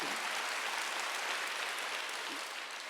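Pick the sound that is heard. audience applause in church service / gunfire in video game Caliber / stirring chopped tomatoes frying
audience applause in church service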